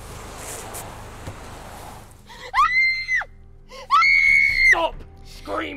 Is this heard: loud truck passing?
no